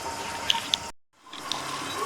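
Water pours into a cooking pot of arbi gosht, a Punjabi taro and meat curry. A steady splashing rush is broken by a brief silence, then resumes close by, with no talking.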